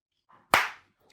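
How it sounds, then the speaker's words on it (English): A single sharp hand clap made close to a camera, a crisp loud smack that decays quickly, preceded and followed by faint quiet murmurs. "That's an absolutely professional clap right there."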